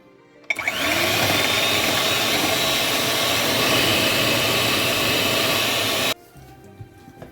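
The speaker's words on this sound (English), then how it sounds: "Now we will beat the egg yolks." An electric mixer beats egg yolks for a sponge cake, switching on abruptly into a loud, steady high whir that runs for about five and a half seconds before cutting off.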